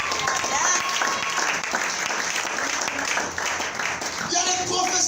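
A church congregation breaks into sustained applause and cheering during a Sunday morning service, the loud dense clapping filling the whole stretch with a brief dip before swelling again, crowd voices mixed in.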